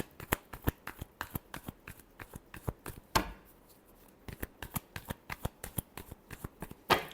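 Tarot cards are shuffled by hand in a rapid series of crisp, close riffling snaps and taps, with a couple of louder bursts, and no talking.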